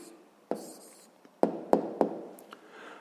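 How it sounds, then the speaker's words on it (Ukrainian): A pen writing out a maths answer by hand on paper: short scratchy strokes with several sharp taps as the pen meets the page, close and fairly quiet, with no talking. "Так, ну що ж, пишемо відповідь"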